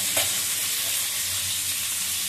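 Dried red chillies and panch phoron spices sizzling in hot oil in a pan, a steady close crackling hiss throughout with one brief sharper spit near the start.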